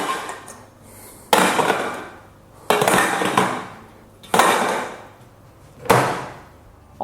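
Aluminum cans drop one after another into an IKEA Sortera plastic recycling bin, each landing as a sharp, hollow clatter followed by a brief rattle, four impacts spaced about a second and a half apart, close by.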